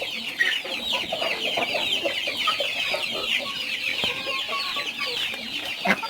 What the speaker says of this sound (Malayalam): എൻ്റെ അടുത്ത് നിൽക്കുന്നത് അത് തലശ്ശേരി പൂവനാണ്